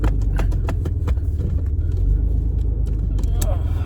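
1987 Ford Bronco II engine idling after sitting for 15 years, a loud low rumble with rhythmic ticking and rattling, with someone speaking over it.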